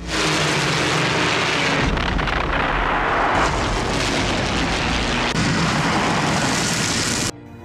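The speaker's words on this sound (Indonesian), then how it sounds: "Namun tiba-tiba Luftwaffe datang memberi serangan balasan. Semua tank Soviet segera mundur untuk menghindari serangan udara." Luftwaffe warplanes attack Soviet tanks in a war film about the Battle of Moscow, a dense, loud roar of engines and explosions running continuously before cutting off abruptly near the end.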